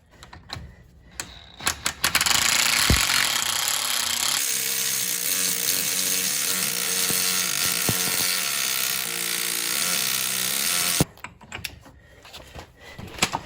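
An air impact wrench or power tool tightens a metric 22 by 1.5 axle nut on a Toyota front wheel hub, one loud sustained buzzing burst of several seconds framed by brief clanks and handling noise.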